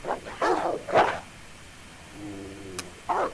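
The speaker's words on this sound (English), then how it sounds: "Chained up dogs." Chained dogs bark in Alone in the Dark: The New Nightmare on Sega Dreamcast, a few sharp barks in quick succession at moderate distance, with a short whine-like tone and another bark near the end.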